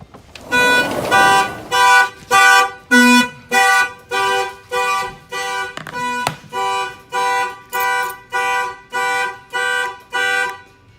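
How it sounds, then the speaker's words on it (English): A loud, close food truck security alarm blaring in a steady repeating pattern of harsh tonal beeps, each about half a second long, continuing without pause. "I'm gonna go ahead and open the door. The alarm will trigger."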